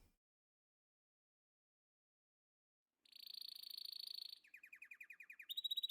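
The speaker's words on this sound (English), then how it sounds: "The canary sings happily." A canary sings in a visual novel video game: after silence, a bright sustained trill starts, then shifts into rapid repeated chirping phrases that grow louder, with no voices.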